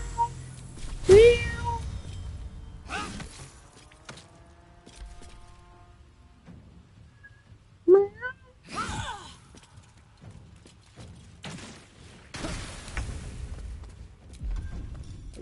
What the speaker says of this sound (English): What are you meowing about?